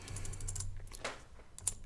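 Short run of computer keyboard typing while writing code, a handful of quick close key clicks with brief gaps, quiet and alone.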